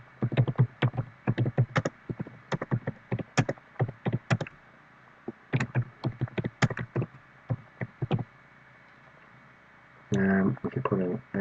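Rapid typing on a computer keyboard, close and crisp, with irregular bursts of key clicks and short pauses, followed near the end by a brief stretch of a voice talking.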